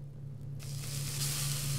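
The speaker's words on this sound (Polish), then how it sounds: "Smażymy sobie rybkę." Fish frying in a pan in the survival game Subsistence gives a steady, close sizzle that swells into a brighter, louder crackle partway through, over a low constant hum.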